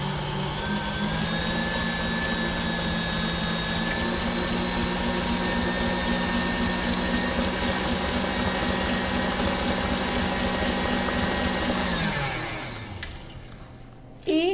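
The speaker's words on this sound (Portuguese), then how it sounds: "vou ligar novamente a batedeira por no máximo 30 segundos" An electric stand mixer beating dough whirs at high speed with a steady, loud motor drone for about twelve seconds, then winds down and cuts off near the end.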